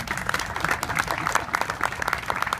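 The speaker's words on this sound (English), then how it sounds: "Can we have one more round of applause?" A crowd gives comedian Colin Quinn another round of applause, a steady, moderately distant wash of many hands clapping with no voices over it.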